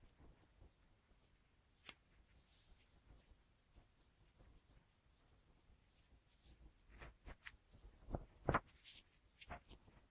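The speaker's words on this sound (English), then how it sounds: "Just keep brushing it with the scissors closer and closer till you're happy with the length." Scissors trimming the loops of turkey rug stitch hand embroidery, giving scattered small snips and brushing cuts, quiet and close, with a few sharper clips near the end.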